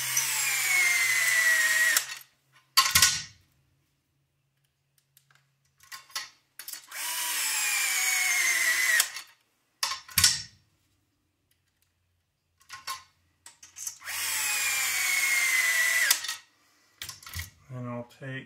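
Power drill driving bolts into an RC car chassis during assembly, three long whirring runs of several seconds each, close and loud, separated by quiet gaps with brief clicks and handling noises.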